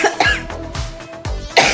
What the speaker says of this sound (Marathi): असं कोरडा खोकला येते